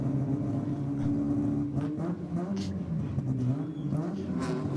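A rotary-engined race car on a drag strip, a continuous buzzing engine drone that rises and shifts in pitch as it accelerates, heard from moderate distance under a steady roar.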